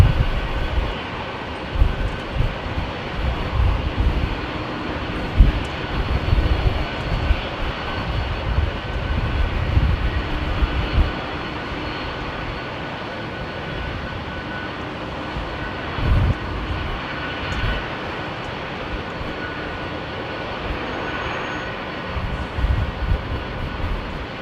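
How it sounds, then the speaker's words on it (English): The jet engines of a Boeing 767 at London Heathrow in windy weather give a steady broadband roar with gusty low rumbling surges, sustained close by with no talking. "Can you hear that 767 next to me"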